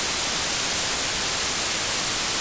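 Dense, even hiss of synthesized noise from Ableton Live Operator, sounding like a wash of heavy rain, steady and unbroken throughout.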